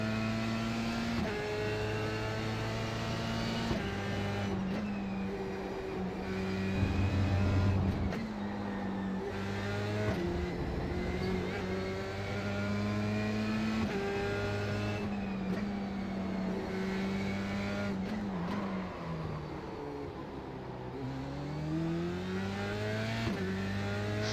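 Formula 3 race car engine at Suzuka in iRacing, revving hard with steady harmonic tone that climbs through each gear and drops on upshifts, loud and continuous throughout with no talk.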